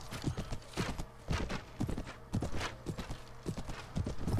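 Horse hooves clip-clop quickly and steadily in the medieval game AD1257, loud and close. Each rapid footfall is distinct, and a whinny and battle noise come through underneath without talk.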